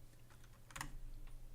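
Light typing on a computer keyboard while programming, scattered faint clicks with one sharper keystroke in the middle, against quiet room hum.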